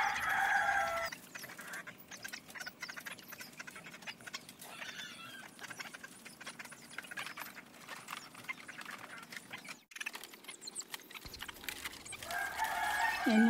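Chickens clucking with a rooster crowing amid steady outdoor noise, fairly faint and continuous.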